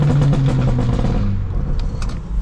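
A tuned 400 hp BMW G20 330i with a stage 2 map and aggressive burble mode rumbles loudly on a downshift, its exhaust crackling with pops and burbles as the engine note falls away, close to the car.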